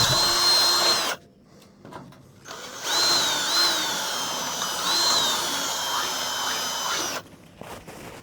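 A loud power drill whines in two long bursts, its pitch wavering as it bites into the steel of a dump trailer, with brief quieter pauses between.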